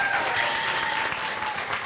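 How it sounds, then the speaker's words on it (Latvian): Applause from a hall audience after the artists take their bow at a show, a dense steady wash of many hands clapping at close range that holds at even loudness for about two seconds, with no voices over it. "Mākslinieču paklons un aplausi no zāles."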